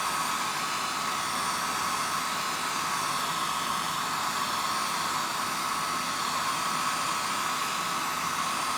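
A hair dryer blows steadily to dry glue on decoupage art on stone, a loud, even, unbroken whoosh with a faint high whine that carries unchanged throughout.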